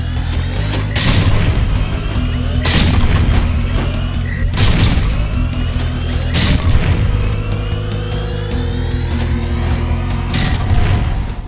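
Heavy booming shots ring out on a gun training course in the Jak and Daxter video game, four big blasts spaced a couple of seconds apart over a constant loud engine-like rumble.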